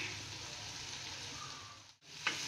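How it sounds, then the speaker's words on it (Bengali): Onion and ginger fry in butter with a soft, steady hiss of sizzling that briefly dips to near silence before resuming, quiet and close with no talk. "আদাটাও খুব ভালো করে 2-3 মিনিট ধরে ভেজে নিতে হবে"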